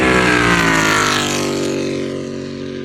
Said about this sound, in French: il y a une voiture qu'on entend au loin là